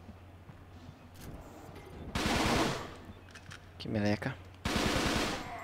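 Gunfire in the video game Fighting Force 2: two loud bursts of automatic fire separated by a short rapid rattle, over a steady game soundtrack hum, with a brief spoken remark.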